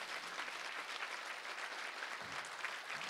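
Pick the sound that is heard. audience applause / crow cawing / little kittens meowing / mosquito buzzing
audience applause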